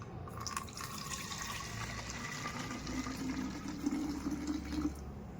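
Water runs continuously into a container for mixing a neem oil plant spray, a steady close trickling and gurgling that holds at an even level throughout.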